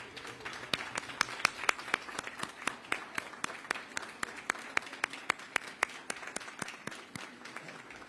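An audience at a ferry commissioning ceremony on Staten Island gives a round of applause for descendants, heard as a sparse run of distinct, fairly steady claps over low background murmur.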